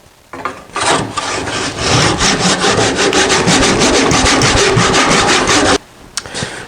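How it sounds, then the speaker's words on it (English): A hand pull saw cuts through a wooden camping side table, a steady run of close, loud rasping strokes that carry on for several seconds and then stop abruptly, leaving a few faint knocks. "what we're going to do is finish the cut using this pull saw"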